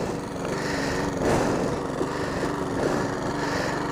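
A Sovereign lawn mower cutting grass gives a steady, close, buzzing engine drone that runs unbroken throughout with no talking.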